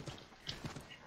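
Horse hooves clip-clop at a brisk, uneven pace while riding in the video game Assassin's Creed 3, the steps close and moderately loud over soft game ambience.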